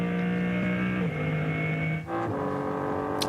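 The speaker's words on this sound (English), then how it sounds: "listening in to what is effectively still the BMW M4 GT3 turbocharged engine" A BMW M3 Touring race car with a turbocharged BMW M4 GT3 engine at a Nürburgring 24h qualifying race, heard as a loud, steady engine drone with shifting pitch, like an onboard or close trackside recording.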